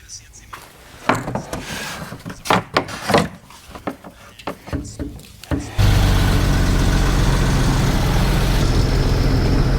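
A Land Rover Freelander engine runs steadily after an oil change, a loud, even, low mechanical drone starting abruptly after a spell of knocking and handling noises with some talk.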